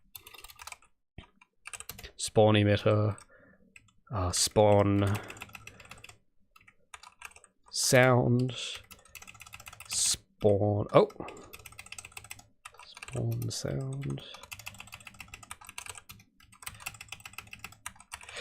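Soft clicks from typing on a computer keyboard run quietly throughout, under intermittent speech from a nearby voice.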